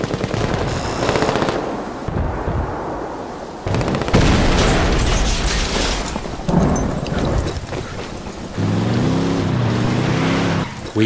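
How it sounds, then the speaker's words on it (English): A C4 charge detonates during a firefight in the video game Ghost Recon Wildlands, a booming blast mixed with bursts of automatic gunfire and engine noise that goes on throughout. "we blow that C4 we placed earlier"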